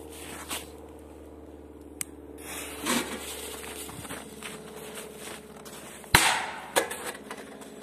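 A single sharp bang of a China Banger 2 firecracker exploding under a metal pot bursts out partway through, lifting it about 10 cm, with a short rattle after it, amid scattered light scrapes and footsteps over a low hum.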